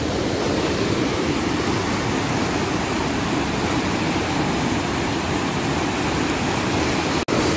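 Water rushing hard at a dam as the flow suddenly rises, a steady loud broadband roar that fills the whole stretch with no break except a brief click near the end.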